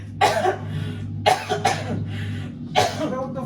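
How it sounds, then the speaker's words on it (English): A man coughs in three separate harsh bursts, close and loud, over a steady low hum, with no talk between the coughs. "Man, I don't have to cough no more."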